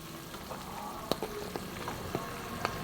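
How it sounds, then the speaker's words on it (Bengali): Lentil pakoras simmering in a pot with boiled tamarind stems, a steady broadband bubbling hiss with a few sharp clicks from the pakoras or a spoon, near and fairly quiet, with no talk. "পকোড়াগুলো হালকা একটু সেদ্ধ করে নেবো"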